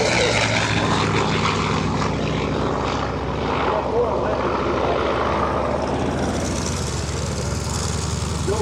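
Grumman Bearcat, Wildcat and Hellcat warbird propeller fighters fly past at EAA AirVenture 2025. Their piston engines make a loud, steady, droning roar with a whining edge, and a voice speaks over it.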